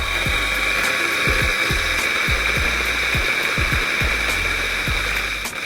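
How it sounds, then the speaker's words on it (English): A Turin DF54 coffee grinder runs continuously while grinding espresso beans. A steady motor whine sits under irregular cracking thumps as beans break in the burrs. Loud and close, with no voices. "always remembering that the grinder is on, and then loading the coffee in"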